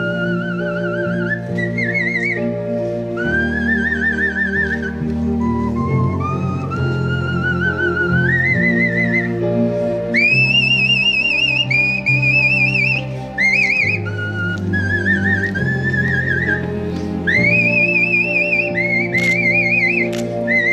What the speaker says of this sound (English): Ronnie told Rosemary how much Sheila is like him with her whistling